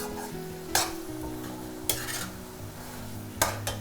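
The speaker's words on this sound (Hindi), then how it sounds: "हम प्याज को अच्छी तरह से ब्राउन होने तक भूनेंगे।" Onions frying in oil in a pan while being browned, a soft continuous sizzle under a quiet low hum, broken by three or four sharp scraping stirs of a spoon against the metal pan.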